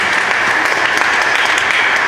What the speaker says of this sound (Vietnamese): Một lần nữa chúng ta cùng vỗ một tràng pháo tay thật lớn để chúc mừng gia đình Teresa.